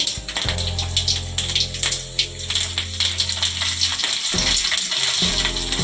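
Urad dal, chana dal and curry leaves sizzling steadily in hot oil for a brinjal palya, a loud continuous frying hiss with crackles, briefly dipping near the end before resuming.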